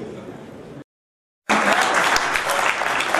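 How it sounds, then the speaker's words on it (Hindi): An audience at a Hindi-language product training session for calcium and glucosamine supplements bursts into applause. Brief clapping gives way to a gap of silence, then a dense, loud sustained round of clapping follows. "अभी तालियां बनी"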